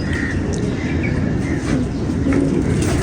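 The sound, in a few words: pigeon cooing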